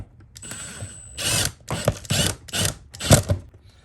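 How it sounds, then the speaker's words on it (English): A screw driven into a wall to mount a fishing rod holder, heard as several close bursts of ratcheting, whirring driver noise separated by short pauses. "we're gonna get one screw in first here"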